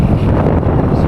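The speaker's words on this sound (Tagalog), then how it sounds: "sobrang lakas ng hangin" Strong wind roars across a mountaintop in Occidental Mindoro, a loud, steady buffeting rush that batters the microphone for the whole moment, with no voices over it.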